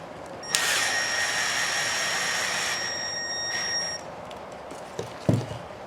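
A power driver whines as it drives screws into a plastic battery box on a Losi FiveT electric conversion. One sustained, fairly loud whirring run of about three and a half seconds is followed by a few light clunks.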